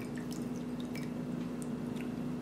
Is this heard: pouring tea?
yes